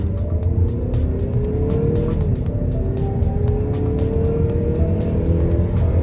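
A 2011 Chrysler 200's engine drones and rises in pitch as it speeds up onto a highway, steady road and tire noise underneath, heard from inside the car.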